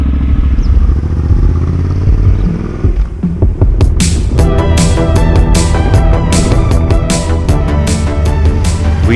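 Motorcycle engine droning steadily while riding over the Kharami mountain pass in the Caucasus, from Chechnya toward Dagestan, with a loud continuous throb and rattling clatter building in the second half.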